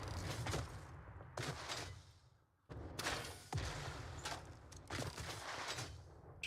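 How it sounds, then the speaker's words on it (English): Explosions from the factory-building game Satisfactory come as a series of sharp, broadband blasts with a short silent gap midway, each burst followed by a rumbling tail, fairly quiet overall. "Just the joy of exploding something, I guess."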